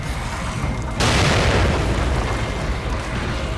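A grenade detonates in the video game The Evil Within, a sudden loud boom about a second in, followed by a rumbling, crackling decay.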